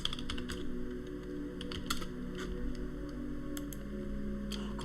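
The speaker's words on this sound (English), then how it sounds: "typing is atrocious today." Computer keyboard typing during a World of Warcraft gaming session, bursts of quick, close key clicks in uneven runs over a steady low background hum, no voices.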